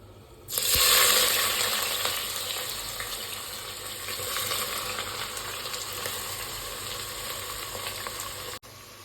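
Five sliced medium onions hit hot oil in a pan for chicken biryani, bursting into a loud sizzle that settles into steady frying with stirring, close and without talk.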